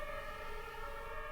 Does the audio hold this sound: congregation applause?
no